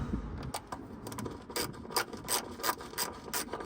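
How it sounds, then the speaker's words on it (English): Worn ratchet clicking while loosening fuel filter bracket bolts on a 1997 GMC K1500 Suburban, a close series of crisp pawl ticks over a faint scraping, metallic mechanism. "The ratchet I'm using is a pile of shit, so it likes to switch on me."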